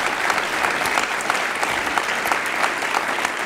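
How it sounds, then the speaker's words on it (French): An audience claps loudly and steadily to welcome Eric and Rachel Dufour at a church celebration, a dense, continuous applause with no voices over it. "Je propose qu'on les applaudisse bien fort pour les accueillir chaleureusement dans notre région."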